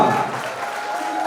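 College students at a film promotion for Antim clap loudly for actors Mahima Makwana and Aayush Sharma, a dense, steady burst of crowd applause with cheering voices mixed in throughout.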